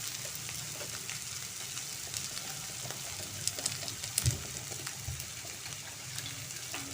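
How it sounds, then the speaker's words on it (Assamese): Eggs frying in a kadai for an egg dum curry give a steady, soft, hissing sizzle throughout, with scattered small pops and crackles and no talk. "এয়া ফ্ৰাই হৈ আছে"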